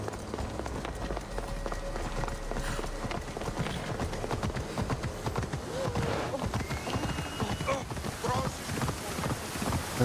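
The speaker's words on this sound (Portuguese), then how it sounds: "Fala que cavalo funciona aqui e corre." Galloping horse hooves in the video game Assassin's Creed Odyssey, a steady fast drumming of hoofbeats over continuous rushing outdoor noise, with a brief whinny-like tone and faint background sounds.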